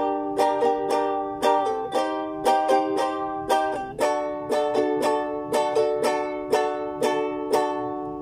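Bright ukulele chords strummed in a steady repeating rhythm, clear and close, with no voices.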